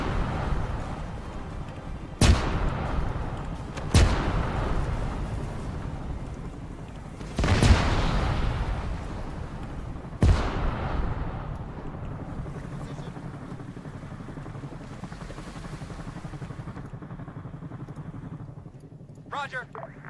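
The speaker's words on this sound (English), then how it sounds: "I just got to spawn explosives and blow shit up." Explosions and secondary cook-off blasts go off in the military shooter Arma 3 while a building is blown up with spawned explosives. Four sharp booms punctuate a steady rumble, with voices talking over the scene.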